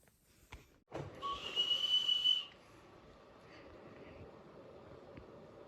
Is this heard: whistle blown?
yes